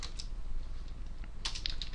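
Coding on a computer keyboard: scattered soft key clicks, a few at the start and a quicker cluster near the end, close and fairly quiet over a low background hum.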